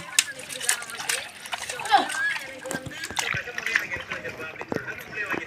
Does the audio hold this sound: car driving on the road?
no